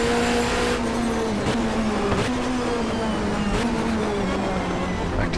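A 1994 GTR2 Asia-Pacific Championship touring car engine drones loud and close on track, its pitch climbing then dropping sharply at each upshift as it pulls through the gears, with a commentator talking over it.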